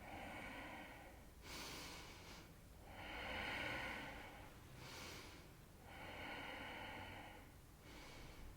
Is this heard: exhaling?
yes